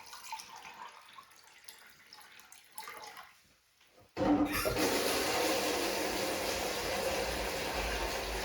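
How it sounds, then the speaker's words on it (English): A toilet flushes with a sudden loud rush of water that keeps pouring steadily for several seconds, close up, after quieter trickling and handling sounds. "These should both flush with a normal flush when there's not opposing"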